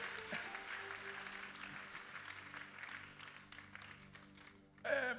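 Applause from a church congregation fills the space, steady and sustained across the clip, with a brief burst of louder crowd noise near the end.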